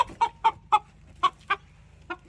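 Several chickens cluck in short, separate bursts near the listener, about six clear calls spaced irregularly over a couple of seconds with a low hum beneath and no voices.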